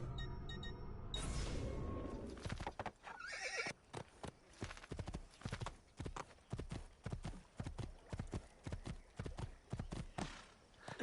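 Hoofbeats from a horse in the video game Assassin's Creed II pound in a fast, regular rhythm, loud and close, with a neigh near the start and no talking over them.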